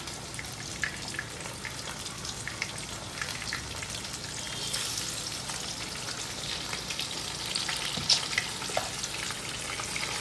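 Fish sizzles steadily in hot oil in a nonstick pan, a constant crackling hiss with scattered pops, fairly quiet and continuous with no voices.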